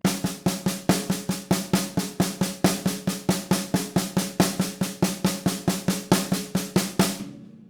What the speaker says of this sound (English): Okay, so that's the inverted paradiddle.